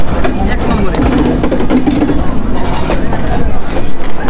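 Chitra Express pulls away from a railway station platform, giving a heavy, steady rumble with rhythmic rattling of the carriage, while voices mingle with the noise.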